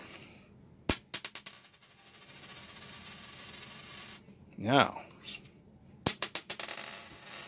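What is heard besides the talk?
copper penny dropped, pinging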